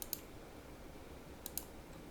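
Two pairs of quick, faint mouse clicks come about one and a half seconds apart, crisp and close, during a Photoshop session in a quiet room.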